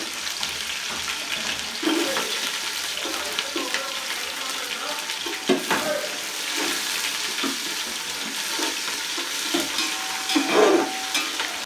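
Onions fry in spiced oil in a pan, a steady hiss of sizzling with occasional scraping as they are stirred, close and continuous, with faint speech at moments.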